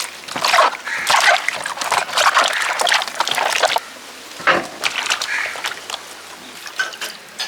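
Water poured and splashed over pineapples while washing them, a loud, close, continuous splatter and slosh that eases briefly midway, then resumes with trickling.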